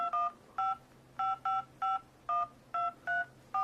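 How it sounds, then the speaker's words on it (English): Touch-tone keypad beeps from a smartphone phone app, a run of about ten short, evenly clipped dual-tone beeps at a steady dialing pace, close and clean with a faint hum beneath and no voices. "We'll just dial a number."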